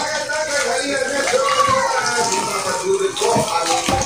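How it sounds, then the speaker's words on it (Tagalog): Hot water pours steadily from a kettle into a container of Samyang noodles, a continuous close splashing stream while a person talks over it. "So, lalagyan natin ang mainit at tubig."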